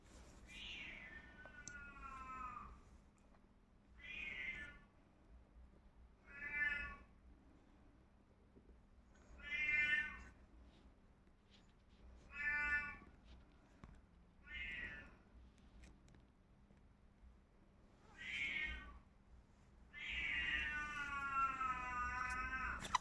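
A cat meows repeatedly, about eight loud drawn-out calls spaced a couple of seconds apart, the last one long and wailing, with a low steady hum underneath.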